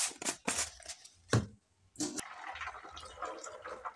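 Hot water poured into a container of salted groundnuts, with splashing and trickling bursts that start and stop, close by and fairly clear, no talking.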